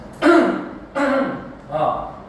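A person coughs three times in slow succession, close up, each cough rough and throaty with pauses between.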